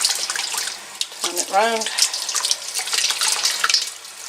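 Cold water runs steadily from a tap while Gotland fleece is washed in a sink, a loud continuous splashing and gurgling with brief shifts as the wool is handled, and a voice speaks briefly over it.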